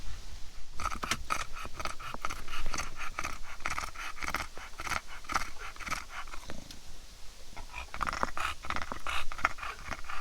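Rapid, rhythmic panting from puppies, breathy and continuous throughout, fairly close.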